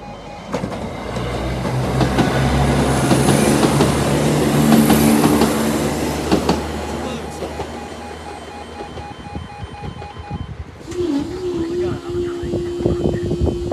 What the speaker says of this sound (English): that train was really loud